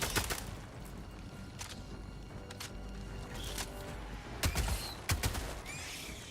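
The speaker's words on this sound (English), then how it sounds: "This gun's weird. Way better than the previous SMGs," Submachine gun fire in a shooter video game, several separate short bursts and single sharp shots spread across a few seconds over quiet background game ambience.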